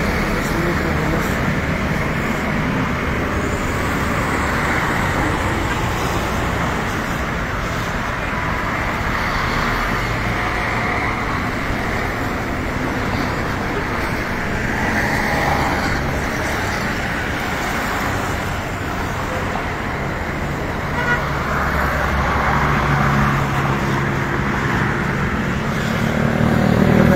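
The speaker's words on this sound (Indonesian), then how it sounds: "terpantau arus lalu lintas di sini landai, ramai lancar" Busy holiday-return traffic at the Karanganyar toll gate, a continuous loud roar of passing cars and vehicles with swelling pass-bys, steady throughout and heavier toward the end.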